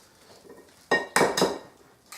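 Rosemary is mixed through breadcrumbs in a bowl for chicken schnitzels, heard as a few short, close scraping and clinking strokes of a utensil against the bowl, with quiet pauses between them.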